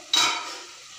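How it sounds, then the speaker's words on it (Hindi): A spoon stirring sliced cabbage and peas in a hot pan, one sharp close scrape followed by a soft, fading sizzle. "इसे अच्छी तरह से मिक्स कर लेंगे।"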